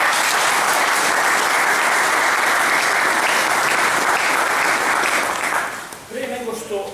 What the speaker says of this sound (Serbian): Moram vas da pozdravimo jednim aplauzom.